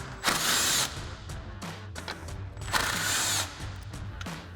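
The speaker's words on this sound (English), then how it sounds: "grab our 10mm socket and extension on our impact to go ahead and remove the two 10mm bolts up top here" An impact wrench with a 10mm socket and extension backs out bolts on a 2021-2023 Ford F-150 headlight mount: two loud ratcheting bursts of about half a second each, with quieter mechanical clicks and handling between them.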